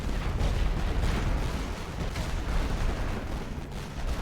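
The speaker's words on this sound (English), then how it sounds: "this artillery fire isn't super close" World War I artillery fire in The Great War: Western Front rumbles as a continuous low barrage of heavy booms, rolling and overlapping at a moderate distance with no pauses.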